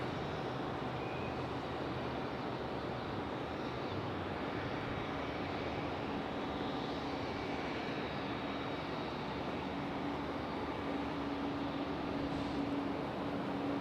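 A Delta Boeing 737-900ER arriving at Raleigh-Durham from Los Angeles, heard as a steady, fairly quiet distant jet engine rumble and hiss that holds evenly throughout with no talk.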